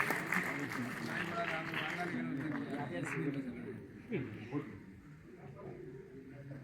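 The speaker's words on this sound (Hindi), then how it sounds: "जोरदार तालियां हमारे सर्वेश अस्थाना जी के लिए।" Audience applause greets the host at a Hindi poetry gathering (kavi sammelan) tribute event, a moderate clapping wash under a speaking voice that gradually tapers off.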